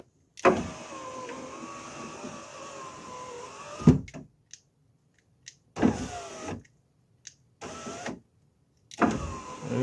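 Electric power window motor in a VW Polo door lowering the glass after a wiring repair, a steady whirring run of about three seconds followed by several shorter bursts with brief pauses, close and clear with no talk.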